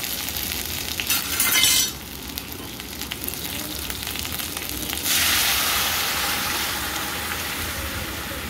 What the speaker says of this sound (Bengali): এখন এর মধ্যে এখন আমরা দিয়ে দেব সবজি দিয়ে সেদ্ধ করে রাখা মুগ ডাল।